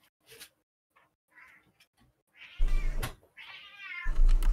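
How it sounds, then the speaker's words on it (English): A deaf cat meows loudly and repeatedly at close range, with drawn-out wavering cries over a faint background and a few soft scattered noises before them. "Who's got the cat?"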